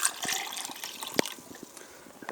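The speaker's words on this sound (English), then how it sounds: "And then you pour in the water." Water pours into a glass holding Gatorade Zero Sugar Grape mix, a soft, quiet trickle and splash with a brief clink partway through, heard alone.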